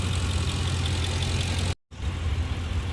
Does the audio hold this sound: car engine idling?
yes